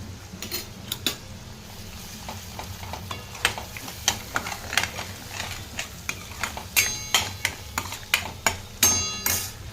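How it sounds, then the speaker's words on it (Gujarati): Ginger, chili and garlic paste frying in a pan of thick chickpea gravy, a steady sizzle under regular scraping strokes of a spoon that grow louder and more rhythmic toward the end. "આદુ મરચાં અને લસણની જે પેસ્ટ બનાવી હતી એ ઉમેરી અને આપણે ચલાવી લેશું"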